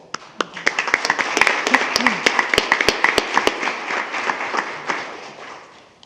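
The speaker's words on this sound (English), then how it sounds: "please join me in a round of applause that they can hear all the way down to Glenn" Round of applause at a school board meeting, a room of people clapping with sharp individual claps standing out at first, building into a dense patter and then slowly thinning out over about six seconds.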